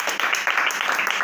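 A children's Sunday school congregation applauds in church, giving dense, continuous clapping throughout the short burst, loud and close, with voices mixed faintly into the noise.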